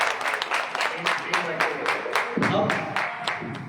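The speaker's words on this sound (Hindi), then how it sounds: "तो तालियों के साथ" A small crowd at a Diwali lucky draw in an electronics showroom claps for the winner, a steady run of rhythmic handclaps heard close, with a voice talking over it.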